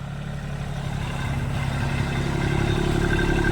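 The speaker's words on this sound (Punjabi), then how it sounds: "ਟਰੈਕਟਰ ਤੇ ਆ ਗਿਆ ਭੱਜਦਾ ਬਹੁਤ ਆ" A steady engine drone with a clattering, rumbling low end, holding at a constant level and growing slightly louder, like a new tractor driving close by on a dusty road.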